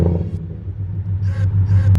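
A 700-plus brake horsepower Roush supercharged 5.0 V8 Ford Mustang GT, modified, starting up close by, a deep loud rumbling idle with brief rises in pitch.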